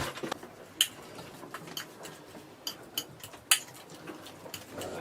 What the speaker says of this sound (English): I'm going to take my banana in a bowl and I'm going to mash it